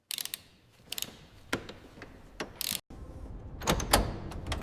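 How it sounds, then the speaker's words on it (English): Wheel bolts are worked loose on a Rolls-Royce Boat Tail, giving a series of sharp metallic clicks and ratcheting bursts with a short gap, close and moderately quiet, with no talking. "Each bolt is carefully loosened, ensuring no strain on the original mounts."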